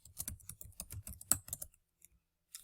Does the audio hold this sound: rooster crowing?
no